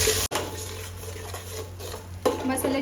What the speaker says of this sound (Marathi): चांगला मिक्स करून घ्यायचा मसाला तेलामध्ये